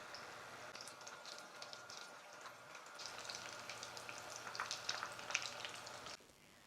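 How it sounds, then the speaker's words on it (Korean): Potato and beef croquettes fry in oil with a steady, faint sizzle and scattered small crackles and pops throughout, with no talking. "전체적으로 색감도 예쁘게 잘 튀겨져서 이제 접시에 담아 볼게요."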